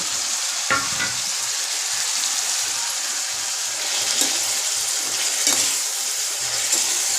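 Roughly half a kilo of tomatoes sauté in hot oil with a steady close-up sizzle and hiss, broken by occasional scrapes and stirring clinks from a spoon in the pan.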